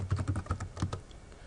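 Soft, quick keystrokes on a computer keyboard as a command is typed, a brief close burst of about a dozen clicks with no talking.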